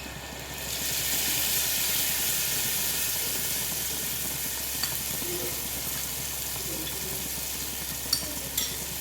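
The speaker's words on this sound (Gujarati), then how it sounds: "આપણે લસણ એડ કરી દઈશું, કચરું વાટેલી લીધેલું છે" Crushed garlic and masala sizzling in about two tablespoons of hot oil in a pan, a steady close frying hiss with a few small pops and clicks, no talking.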